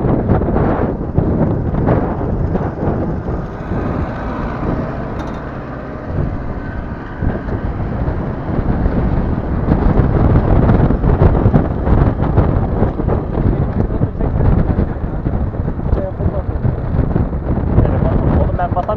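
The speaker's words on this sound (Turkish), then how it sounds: "Oğlum çok rüzgar var lan." Heavy wind buffeting the microphone during a group road-cycling training ride near Gölyazı, Bursa, a dense continuous roar with brief voices of riders talking over it.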